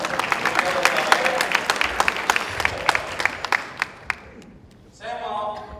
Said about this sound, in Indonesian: Berikan tepuk tangan buat semua